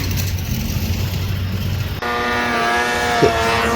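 Racing mud lawn mower engine on a race lap, a loud continuous close roar that shifts to a higher whining pitch midway as revs climb.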